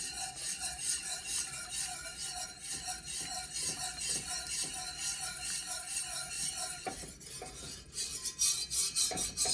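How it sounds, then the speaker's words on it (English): A whisk scrapes steadily and rhythmically around a pot as milk is gradually worked into a macaroni cheese sauce, with close, continuous stirring and no voices. "We're going to slowly incorporate our milk, whisking the entire time"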